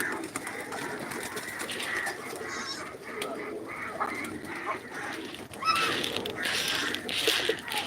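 Pigeons coo repeatedly in soft, throaty calls, mixed with other poultry noises in a busy farmyard.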